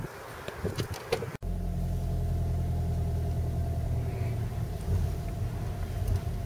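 A Vauxhall Corsa 1.3 CDTi SXi diesel is driven on the road: a steady, low engine rumble and road noise fill the cabin, after a brief rustle and a click at the start.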